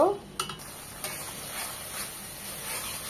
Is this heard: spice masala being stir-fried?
yes